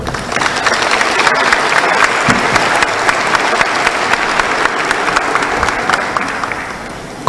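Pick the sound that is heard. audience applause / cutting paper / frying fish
audience applause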